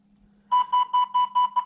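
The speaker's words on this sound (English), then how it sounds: "That little buzzer is a reminder to pull the VCI." An Autel MS906TS automotive scanner, used on a 2013 Chevrolet Silverado, sounds its reminder buzzer: six quick, loud, evenly spaced beeps close up over a faint steady hum.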